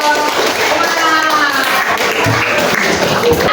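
Children in a classroom clap together in a dense, steady burst of applause that lasts throughout, with voices mixed in beneath the clapping.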